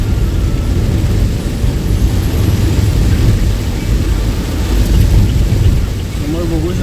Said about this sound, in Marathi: बेकार पाऊस चालू आहे, बेकार.